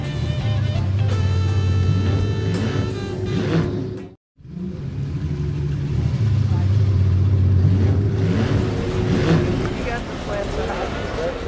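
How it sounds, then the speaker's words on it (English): A 1910 Rolls-Royce Silver Ghost double Pullman limousine engine runs with a low, steady hum at a concours show, broken briefly by a short gap, while people talk nearby. "There's an engine for you from 1910."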